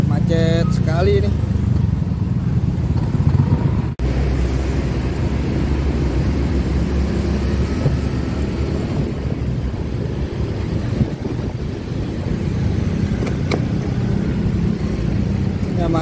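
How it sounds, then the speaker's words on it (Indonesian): Heavy traffic in a Jakarta jam near the Jelambar toll ramp, heard from a motorcycle: a dense, continuous rumble of engines and wind buffeting, with someone talking over it and a brief sharp knock partway through. "Ya nih macet sekali nih."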